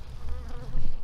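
Honeybees swarm around a beginner's beehive, their dense, close buzzing rising and falling in pitch over one short second, with no voices.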